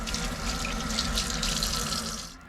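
A tap runs steadily into a small sink in the toilet of a high-speed train, a close, even hiss of water with no voices.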